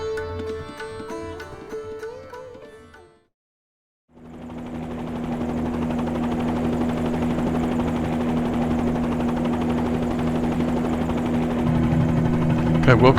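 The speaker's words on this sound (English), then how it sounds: "here we are in a helicopter" A helicopter in Microsoft Flight Simulator 2020 spools up after a brief silence, its rotor and turbine settling into a loud, steady drone that builds slightly toward the end, preceded by a few seconds of menu music.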